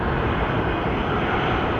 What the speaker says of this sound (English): the wonderful sound of the 777 engines grinding as they spin up and get going